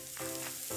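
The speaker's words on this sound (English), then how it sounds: "That's the sound of James adding long-lasting Gain scent boosters to his laundry this morning" Gain scent booster beads pour into laundry in a radio ad, making a quiet, continuous sandy rustle with a few soft swells.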